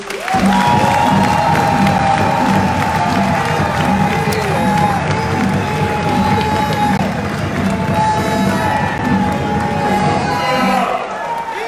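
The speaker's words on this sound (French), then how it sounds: "je voudrais que vous applaudissiez" A large crowd cheers, shouts and claps at a political rally in Brussels, with loud continuous noise, raised voices and whoops throughout.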